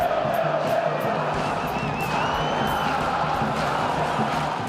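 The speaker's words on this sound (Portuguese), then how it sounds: "John Arias foi ovacionado pelos palestrinos." Palmeiras supporters in a football stadium give John Arias an ovation during a match against Fluminense, a steady roar of crowd noise with cheers and whistles that holds throughout.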